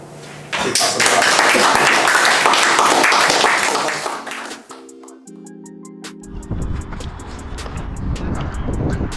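Applause breaks out after a football match against Cardiff and Vale College, a dense burst of clapping that fades after a few seconds into quieter outdoor noise with scattered taps and wind on the microphone.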